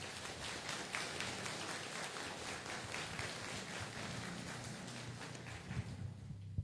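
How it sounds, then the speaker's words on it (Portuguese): A Mass congregation on Pentecost applauds in a continuous, even wash of clapping heard from a distance, quiet and steady, tapering off at the end. "Na salva de palmas, palavra de Deus."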